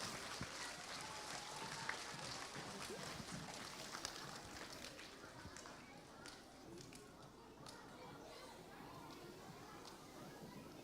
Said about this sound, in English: We can give them an applause